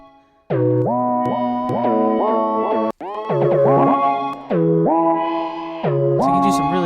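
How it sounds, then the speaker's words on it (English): Repeated synth notes from u-he Satin run through a tape reverb effect, sliding pitches on each attack with a wobbly, echoing tail, loud and steady with a brief gap midway and no talk. "Tape reverb."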